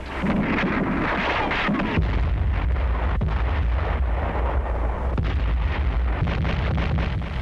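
Artillery fire in a 1945 WWII newsreel: loud, continuous booming and deep rumbling from the barrage, with a few sharper blasts standing out on a worn, noisy old soundtrack.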